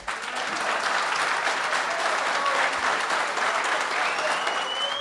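A crowd that packs a hall of the Chania chamber of commerce applauds in sustained, loud clapping that holds evenly for several seconds, with faint voices mixed into the din.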